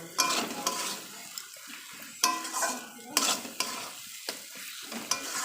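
Meat masala spice mix stir-fried in oil in a pan, with loud repeated spoon scrapes and stirring strokes over a constant close sizzle.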